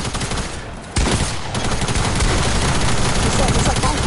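Submachine gun fire in a video game, a dense, loud, continuous automatic stream that briefly dips and then resumes at full intensity for several seconds; a voice is faintly present underneath.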